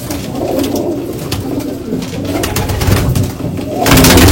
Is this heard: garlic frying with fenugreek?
no